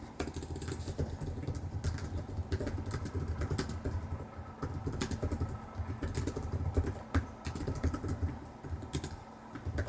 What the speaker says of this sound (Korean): 타건감 자체는 나쁘지 않고 타건음도 적어서 조용한 장소에서